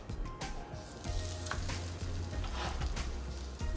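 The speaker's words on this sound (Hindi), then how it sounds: "इसको फ्राई कर लेंगे।" Aloo paratha frying in a pan, giving a steady close sizzle throughout with soft crackling and occasional light scraping.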